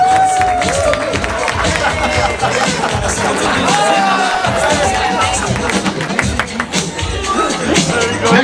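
At a wedding reception, a crowd of guests keeps up loud applause and cheering mixed with scattered shouts and busy chatter, a continuous wall of celebratory noise.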